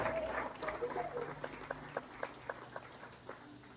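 Congregation applause at a Spanish-language church sermon, a soft, somewhat distant patter of clapping with a few sharper individual claps standing out, tapering off over a few seconds.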